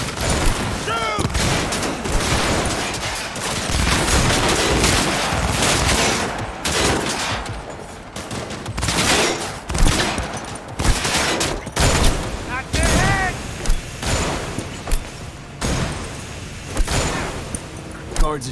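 Dense video-game gunfire from Cyberpunk 2077, with sustained bursts and rapid volleys that keep up almost without a break, loud and close, with explosive booms mixed in and some game voices under the shooting.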